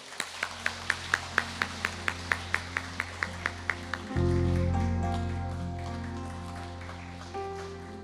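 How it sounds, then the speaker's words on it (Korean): About a dozen sharp, evenly spaced claps ring out at a Seoul memorial ceremony for the 5·18 Democratization Movement as the mayor is welcomed, then give way to a loud sustained low tone and ringing, reverberant hall sound. "시장님을 큰 박수로 맞이해 주십시오"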